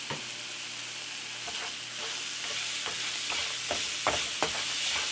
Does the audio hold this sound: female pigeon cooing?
no